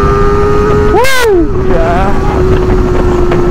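Kawasaki ZX25R motorcycles touring on a road in Central Java: a close, buzzing engine drone under heavy wind rush, with one quick rev swooping up and down in pitch early on.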